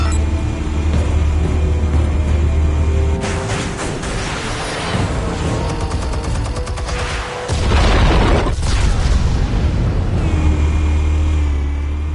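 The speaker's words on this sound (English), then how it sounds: "Explosives armed. Fire when ready." Explosives go off in the Batman Telltale game, with deep rumbling booms rolling over a constant low drone and a heavy blast roughly two-thirds through, loud and sustained.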